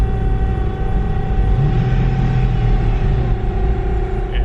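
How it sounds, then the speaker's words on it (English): A faulty Mercedes engine idles high with a steady close drone and tonal whine after a small blip of gas, the revs hanging rather than dropping, with no one speaking. "I just gave it a little bit of gas and the RPMs don't really want to fall"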